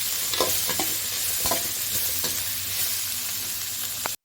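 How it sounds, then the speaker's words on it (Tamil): Onions and green chillies frying in a pan for vada curry, a steady close sizzle broken by a few sharp scrapes and clinks of a stirring spoon, with no talking. "வெங்காயம் பச்சை மிளகாய் எல்லாம் நல்லா வதங்கணும்."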